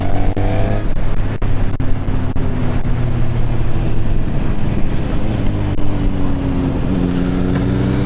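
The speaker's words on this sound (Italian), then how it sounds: "Già lo scarico normale ci dà una bella soddisfazione in termini di sound" A Suzuki Katana inline-four motorcycle with stock exhaust drones loudly and steadily up close, its engine note holding a smooth, continuous tone that rises slightly toward the end.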